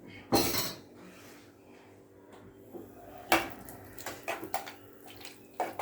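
Mango launji and garam masala get stirred in a pot, with scattered metallic scrapes and clinks of a spoon against the pot in bursts, close and moderately loud, no speech.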